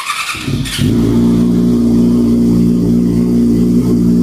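A 2017 Yamaha R6 sport bike with an aftermarket exhaust starts up and holds a loud, steady, throaty idle close to the microphone, a short burst of noise at the start before the engine settles into an even drone.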